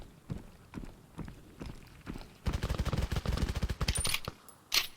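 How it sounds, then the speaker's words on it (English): Machine gun fire in the VR shooter game Tarkov, scattered single shots followed by a rapid sustained burst of automatic fire at moderate distance, with a final loud crack. "Ooh, vicious machine gun."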